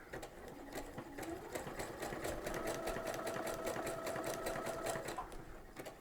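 A sewing machine fitted with a fringe looper foot stitches loops steadily and close by, its rapid needle chatter running continuously with no talking.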